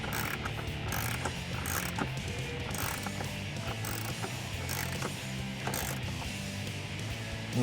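A hand ratchet tightens bolts on an oil separator bracket for a 2010-2017 Ford F-150, giving rapid, steady clicking strokes in repeated bursts, close up over a faint background hum.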